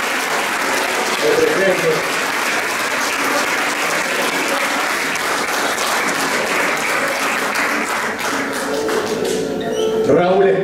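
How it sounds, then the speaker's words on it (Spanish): Steady, loud applause from an audience at a 50th anniversary celebration of a 1974 sports championship, honoring a family member at Sporting de Gigante, with a voice speaking over the clapping near the end. "fuerte el aplauso para Iván"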